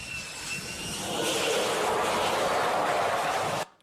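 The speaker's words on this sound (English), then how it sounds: "The plane is stopped. They take it out of the way. The next plane lands." A jet airliner landing at a busy airport runs as a steady, broad engine roar from a distance, swelling slightly partway through before it cuts off abruptly.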